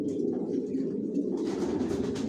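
Deep, rolling coos from a racing pigeon in a loft, repeated close by, with a soft rustle of other birds joining near the end.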